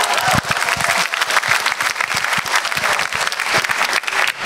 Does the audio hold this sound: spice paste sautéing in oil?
no